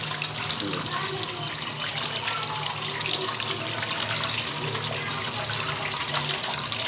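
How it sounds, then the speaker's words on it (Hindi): Mutton is washed under a running tap at a kitchen sink before making a Lahori black pepper mutton karahi, with a steady close stream of water splashing throughout. "धो लूँगी इसे अच्छी तरह से, क्योंकि पहले भी मैंने इसे धो के रखा है।"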